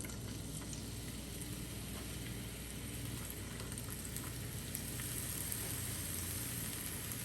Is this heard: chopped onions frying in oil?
yes